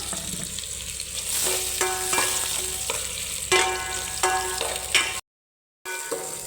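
Onion and tomato sizzle in hot oil in a cooking pot for fish sinigang, a steady close frying hiss broken by repeated scraping stirs and one brief cut to silence.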